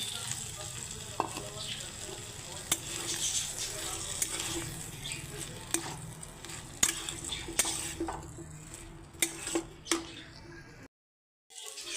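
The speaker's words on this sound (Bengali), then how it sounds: "এখন আলু আর পেঁয়াজটা ভেজে নিচ্ছি" Potatoes and onions fry in a pan with a continuous soft sizzle, broken by regular utensil scrapes and taps as they are stirred, ending in a brief silence.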